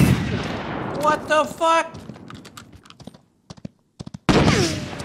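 Gunfire in the video game GRIT sounds as a rapid series of sharp cracks and short bursts, with a man exclaiming over the shots.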